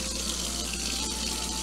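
Hot water runs steadily from a kitchen tap into a sink, a constant close rushing splash with no breaks.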